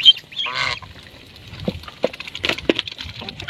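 A white goose kept on a farm gives loud, near honks. Several sharp calls are spread out with short gaps, over faint background noise.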